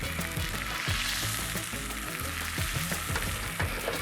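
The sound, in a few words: thick steak searing in skillet at camp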